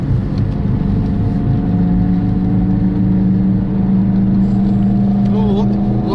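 A car drives home from buying a baler, its engine humming steadily and close with a sustained low drone and road noise throughout, a few faint higher sounds near the end.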